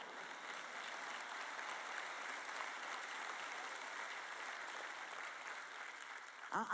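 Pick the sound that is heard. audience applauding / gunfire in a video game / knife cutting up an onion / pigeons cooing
audience applauding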